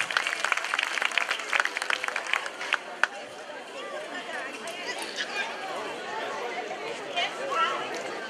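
Audience applause follows an award to a Jewish community folk dance ensemble in Bucharest, clapping strong at first, then fading into crowd chatter and murmuring voices.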